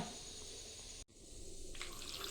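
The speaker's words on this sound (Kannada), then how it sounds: "ನೋಡಿ ನೀರು ಹಾಕ್ತಾ ಇದ್ದೀನಿ" Water pours into a pot of mixed vegetable sambar in a soft, short splashing stream that briefly cuts off and then resumes, faint and close, with no talking.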